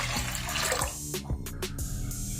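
Water pours into a pressure cooker holding green chilli sambar ingredients and turmeric powder, a steady close splashing stream that tapers off partway, followed by a few light knocks and clinks.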